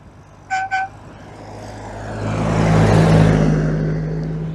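A classic Rover P4 saloon drives past on a club road run, its engine swelling from a distant hum to a loud, close pass and fading away, with two short horn toots just before it arrives.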